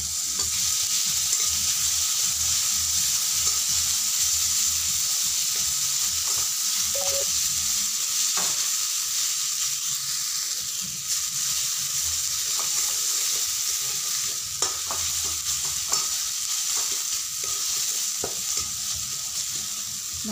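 Ginger and garlic fry in a pan with a constant bright sizzle and hiss, punctuated by occasional clicks and scrapes of a utensil, close and steady over the whole stretch, with no speech.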